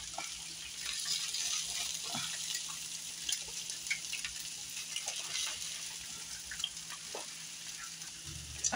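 Hash and eggs fry together in a pan for a simple leftovers breakfast, a steady, fairly faint sizzle with scattered crackles and pops throughout, heard without talk.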